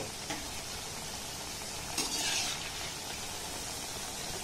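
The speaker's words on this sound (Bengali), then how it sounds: "আর একইভাবে কিন্তু সবগুলোকে আমি সুন্দর করে ভেজে নেব।" Snacks that turn crisp outside frying in hot oil, a steady close sizzle and crackle running throughout with a slight surge midway, no voices.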